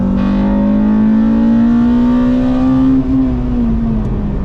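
A car races around the Brands Hatch circuit with its engine loud and close, holding a steady high drone that rises slowly in pitch and then eases off as it lifts near the end, with no talking.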